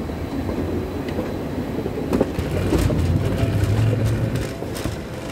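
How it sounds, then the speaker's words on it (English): Airport rail train at Suvarnabhumi Airport in Bangkok rumbling past inside the terminal at night, a steady low rolling drone that swells in the middle with faint rattling and clacks, no talk. "There's the train."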